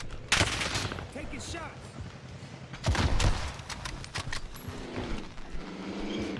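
Rapid automatic gunfire in Call of Duty Warzone on Rebirth Island, with bursts of shots at mid distance mixed with game effects and a voice talking over the action.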